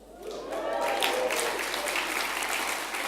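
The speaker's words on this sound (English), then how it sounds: "enthusiastic round of applause" A crowd bursts into applause that swells quickly and holds as a dense, sustained patter of many hands.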